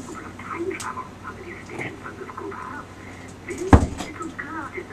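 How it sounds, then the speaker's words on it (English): A door is shut quickly indoors, a single sharp thud near the end of a quiet room. "I'm gonna shut my door real fast."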